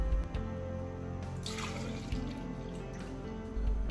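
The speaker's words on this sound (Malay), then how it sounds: "Masukkan juga santan." Coconut milk pours into a blender jug along with sweet creamed corn, a close, splashing liquid flow that settles into steady gurgling before ending, with no voices.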